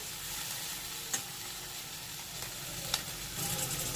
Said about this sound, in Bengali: আবার একটু সব নেড়ে মিশিয়ে নেব।